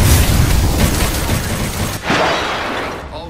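A thermite grenade from Apex Legends erupting in a loud, roaring burst that sustains and fades, followed by a second whooshing flare of fire.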